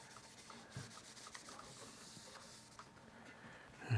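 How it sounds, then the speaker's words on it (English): A clean cloth rubs steadily across a guitar body, wiping off excess mineral spirits, in a faint, close, continuous scrubbing texture with small ticks throughout. "I'll just take a clean cloth to wipe off the excess mineral spirits"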